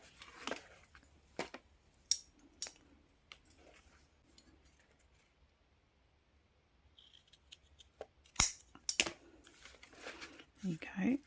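Scissors snip through paper at close range in scattered short clusters of crisp cuts, separated by quiet pauses and a few faint rustles.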